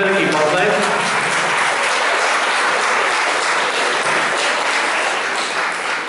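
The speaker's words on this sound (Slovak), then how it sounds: "Ešte raz pre nich veľký potlesk." Audience applause for the Lipka women's and men's folk singing groups from Kružlov at a live folk song performance, steady dense clapping sustained throughout and easing slightly at the end.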